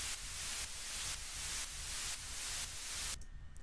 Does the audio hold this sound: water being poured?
no